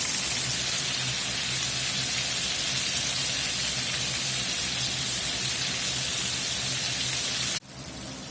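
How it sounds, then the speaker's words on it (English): Steady, loud sizzling hiss of shrimp frying in hot oil, continuous and close, cutting off abruptly near the end. "You see how that's really going to frying right off the bat."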